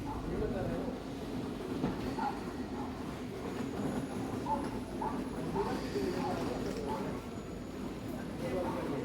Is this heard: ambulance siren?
no